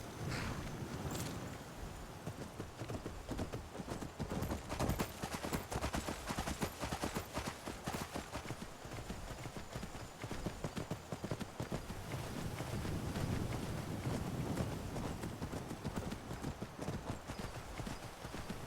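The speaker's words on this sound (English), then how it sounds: "No one's gonna mind if I steal this horse and ride it back to Whiterun" Steady, rapid clip-clop of horse hooves at a gallop in the video game Skyrim, continuous and fairly close, with faint whooshing ambience and no talking.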